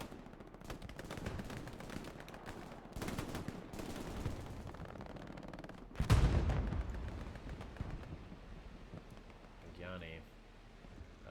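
Machine gun fire from a team-based war video game, with an MG house suppressing infantry: sustained bursts of rapid gunfire and distant battlefield rumble, with a sharp louder blast midway and a voice briefly heard.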